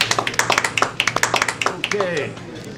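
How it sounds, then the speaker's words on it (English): A small audience at a talk claps to welcome a speaker, a thin round of individual hand claps under an announcer's voice that fades out after a couple of seconds. "Let's welcome Mr. David Ramsay Steele with a rousing round of applause"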